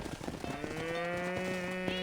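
A cow moos in Red Dead Redemption, a clear drawn-out low call that rises and holds near the listener, with faint scuffling beneath it.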